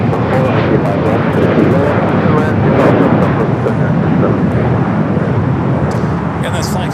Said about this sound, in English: this flight coming from Tokyo Narita on the 787-9 Dreamliner